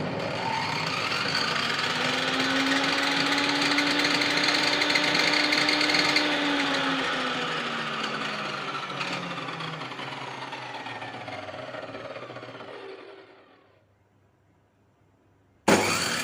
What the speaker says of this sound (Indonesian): Sekarang kita lihat jika table saw Stanley ini tanpa menggunakan Softstart